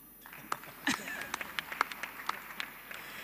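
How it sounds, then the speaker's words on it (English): A small audience at a business conference on Africa's creative and sports economies claps lightly, scattered sparse claps heard faintly and at a distance in a large room. "vous applaudissez un tout petit peu"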